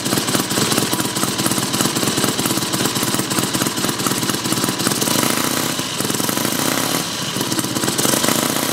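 The 70cc engine of a Mini Hog 70 mini bike idles with a loud, close, rapid chattering putter that holds a steady rhythm throughout, dipping briefly once partway through.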